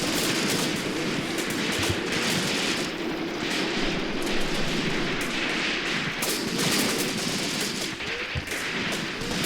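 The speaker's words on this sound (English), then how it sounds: "Look at all that incoming fire" Gunfire in the WWII tactics game Graviteam Tactics: Mius Front, a continuous barrage of rifle and machine-gun bursts with heavy thuds of artillery underneath, loud and unbroken throughout.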